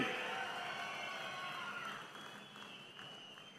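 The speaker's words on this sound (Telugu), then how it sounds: "అవును అంటే గట్టిగా చప్పట్లు కొట్టి అభినందించండి ప్రధానమంత్రి గారిని." Crowd applause at a political rally speech by a state chief minister: sustained clapping from a large audience, loud at first and slowly fading over a few seconds, with no speech over it.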